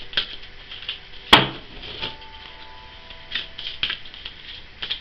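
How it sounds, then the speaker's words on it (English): Crisp papery riffles and soft taps of tarot cards being shuffled by hand, with one sharp snap partway through and no talking. "I think I spend more time shuffling than I do reading"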